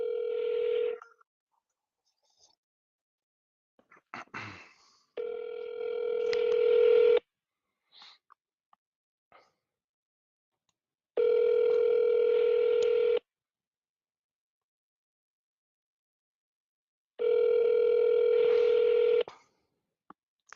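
Telephone dialing tones play while placing a call: a series of long, loud, steady tone bursts lasting about two seconds each, separated by silent gaps, with a few faint short clicks between them and no talking.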